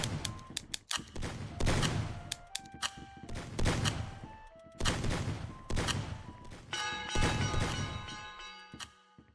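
Video game gunfire in a fast online match: rapid bursts of loud shots in several volleys, with ringing, metallic tails between bursts, and no talk.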